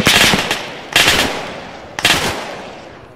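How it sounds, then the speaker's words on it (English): Three loud bursts of automatic gunfire ring out during a close-contact combat training drill, each rapid volley starting sharply and trailing off, roughly a second apart, with no talking over them. "I was not aware we were using live rounds."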